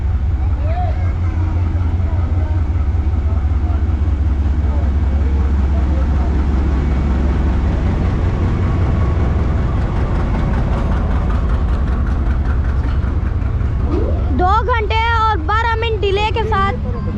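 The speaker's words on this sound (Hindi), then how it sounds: "9 अप अल्लामा इकबाल एक्सप्रेस AG 306029 के साथ कोट लखपत रेलवे स्टेशन पर अराइवल कर रही है।" Allama Iqbal Express, train 9 Up, hauled by locomotive AG 306029, pulls into Kot Lakhpat railway station with a steady low rumble of engine and wheels, a shrill whistle or squealing tone rising near the end.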